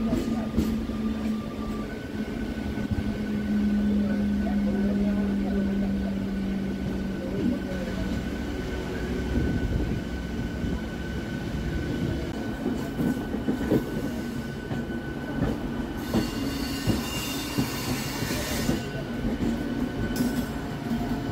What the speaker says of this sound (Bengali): খড়গপুরে ট্রেন ঢুকছে।